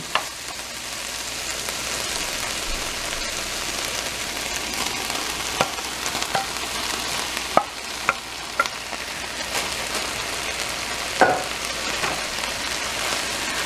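Chicken and broccoli Asian stir-fry with oyster sauce sizzles steadily in a pan. The close, continuous frying hiss is broken by a few sharp scrapes and clinks from stirring.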